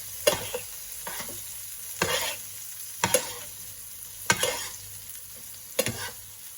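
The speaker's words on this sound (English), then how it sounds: "I'm going to start basting my steak now." Steak sizzling in a pan while being basted with butter, a steady frying hiss broken by regular sweeping bursts roughly every second as the butter is spooned over.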